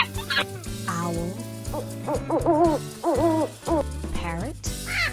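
An owl hoots in a run of short, repeated calls over soft background music.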